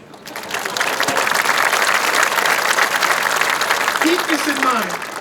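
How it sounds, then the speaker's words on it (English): Graduation crowd applauding steadily at a high school commencement, a dense sustained wash of clapping that swells quickly and holds loud before easing slightly at the end. "Clap it out."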